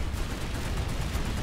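Rapid gunfire from a weapon in the game Planetside 2, a dense, continuous burst of shots filling the clip at close range, with no talk.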